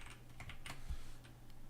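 Quiet keystrokes on a computer keyboard as text is typed into a screen-recording program's text overlay, a handful of light, irregular clicks over a low steady hum with no talking.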